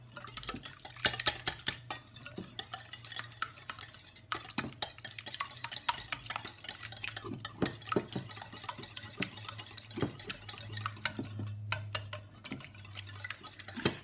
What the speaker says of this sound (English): We're gonna mix everything together.